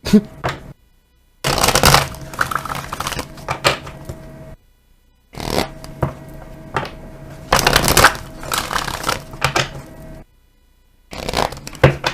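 Oracle cards being shuffled by hand in bursts of riffling and tapping, separated by short silences, close and crisp.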